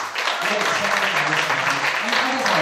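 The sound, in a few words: audience applause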